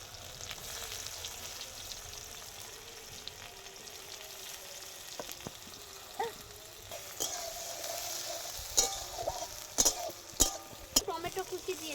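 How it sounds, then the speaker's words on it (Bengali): Cumin seeds and chopped onion fry in hot oil for paneer chop masala, a steady close sizzle broken by occasional stirring clinks of a utensil against the pan. "জিরাটা একটু ভাজা ভাজা হতে ছেড়ে দিচ্ছি কুচানো পেঁয়াজ"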